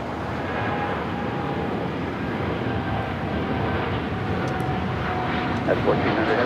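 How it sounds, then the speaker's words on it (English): A United Airlines Boeing 787-9 Dreamliner heading to Chicago O'Hare takes off from LAX, a steady, loud, broad engine roar filling the air with a voice briefly heard near the end. "United Airlines Flight 1400 heading to Chicago O'Hare, 787-9 Dreamliner."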